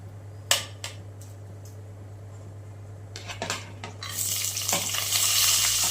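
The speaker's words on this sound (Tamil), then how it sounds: "இந்த மாதிரி ஒரு குக்கர் வச்சு 4 ஸ்பூன் எண்ணெய் ஊற்றி சூடானது நீங்கள் இந்த பட்டை கிராம்பு இதெல்லாம் போட்டு இதை வறுக்கணும்" A few sharp metallic clinks and scrapes of a spoon against a pressure cooker give way to a rising sizzle as cinnamon and cloves fry in oil. The frying grows steadily louder near the end, with a steady low hum underneath.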